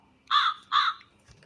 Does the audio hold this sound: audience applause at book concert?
no